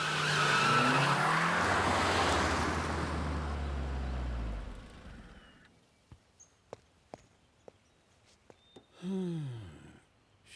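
A car pulls away with loud tire squeal and engine roar, the skid fading after a few seconds, followed by a quiet stretch of sharp clicks and a brief squeaky swoop near the end.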